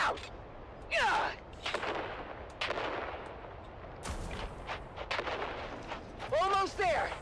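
Grenade blasts and gunfire in the video game Dune Awakening, several heavy booming bursts and sharp shots spread across the clip, with voices talking over the fighting.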